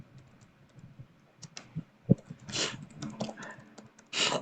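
Keyboard shortcuts typed on a computer keyboard while configuring shared hosting give close, sharp key clicks: scattered single taps, a firm thump, then short bursts of louder clacking presses.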